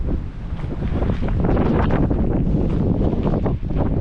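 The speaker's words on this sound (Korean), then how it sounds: "바람이 좀 세긴 해요" Strong wind buffeting a microphone outdoors, a loud, close, continuous roaring rumble with gusty surges and a brief dip, no talking over it.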